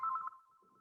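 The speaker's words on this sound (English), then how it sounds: "There's the phone ringing" A phone rings with a brief, faint electronic ringtone in a workshop room, a steady pulsing tone that is loudest at first and then trails off quietly, with no talking.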